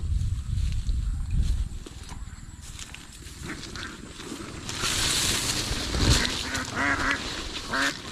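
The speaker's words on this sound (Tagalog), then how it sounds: "Yan po yung mga itik." A flock of domestic ducks quacking close by beside a fishpond and rice fields, a dense, continuous chatter of overlapping quacks that grows louder and busier partway through, with outdoor background noise.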